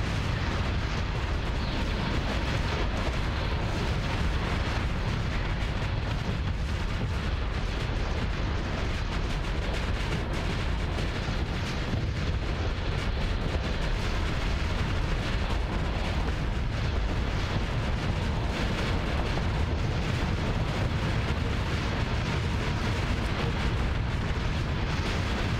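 Dense, unbroken weapons fire and explosions from space warships in the game Starsector, a loud rumbling barrage of booms and bursts running continuously with no clear gaps.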